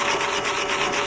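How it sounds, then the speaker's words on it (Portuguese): Slag being scraped or brushed off a weld on thick steel plate, making a steady, close, gritty rubbing sound with a slight back-and-forth pulse, heard alone. "Venho, removo a escória, mas aí eu não preciso remover ela inteira."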